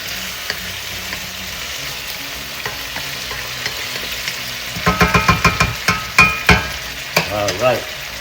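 Food fries on medium high heat for ginataang alimasag with sitaw and kalabasa, a steady sizzle that gives way to a run of loud rhythmic spatula scrapes and clacks against the pan, close up, with no talking.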